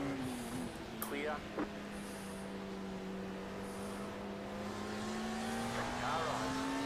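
Race car in the iRacing sim at Watkins Glen sweeping past, a steady engine drone that rises in pitch with faint tire noise, close and continuous under a few brief spotter calls.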